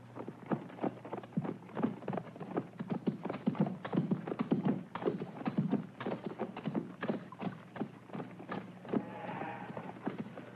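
Horse hooves clop in a steady trotting rhythm on hard ground, with the rumble of a cart rolling along, fairly close and continuous.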